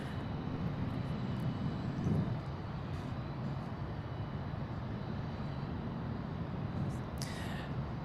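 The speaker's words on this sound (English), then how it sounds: "Yes, that plane is loud." Blue Angels jet aircraft roar past at Boeing Field, a loud broad steady rumble that fills the whole stretch and peaks briefly partway through, with background voices mixed in.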